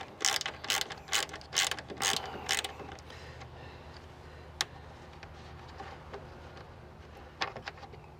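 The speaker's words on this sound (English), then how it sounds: "now we're going to just pull the bolts, the upper bolts." A ratchet backs out the upper bolts on a Nissan Pathfinder fan shroud, a rapid run of close clicking bursts at first, then a quieter stretch with a few isolated clicks.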